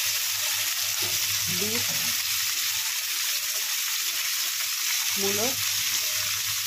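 Mixed vegetables frying with spices in hot oil give off a loud, steady, close-up sizzle that runs without a break, with a voice speaking briefly twice.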